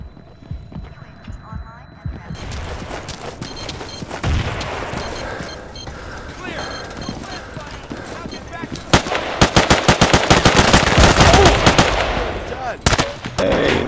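Battlefield 2 combat plays out with bursts of rapid machine-gun fire and grenade blasts, starting sparse and building to dense, loud volleys in the second half, with speech mixed in.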